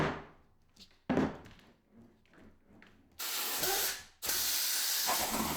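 Compressed air blasts at a resin casting to free it from its mold, with softer handling noises at first and then two loud, sustained hissing bursts close by.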